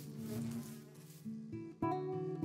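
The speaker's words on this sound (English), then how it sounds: "We've got 3 small bees there." Bees buzz continuously in Minecraft with the All The Mods 6 modpack, a close, droning hum with stacked tonal layers that shift pitch in steps as several bees hover nearby.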